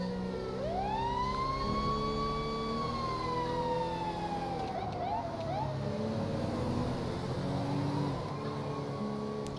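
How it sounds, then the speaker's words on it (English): A fire truck siren in modded GTA 5 wails steadily with rising and falling tones over a continuous engine and traffic rumble, loud and close throughout. "Okay, fire truck's going out on a call."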